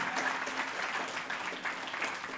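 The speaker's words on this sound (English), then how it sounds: "give a round of applause one more time" A crowd applauds steadily at an office opening and launch event for shadow MPs in St. Joseph. The clapping is dense and sustained throughout, with no speech over it.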